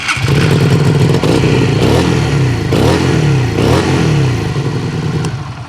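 A Lexmoto Vendetta 250 motorcycle engine runs loud and close, holding a steady chugging idle with a few brief rises in revs throughout.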